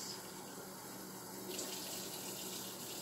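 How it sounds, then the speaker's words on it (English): Water pours steadily and continuously into a well in a bowl of bannock flour, a close, even rushing sound. "And then you drop your water in there."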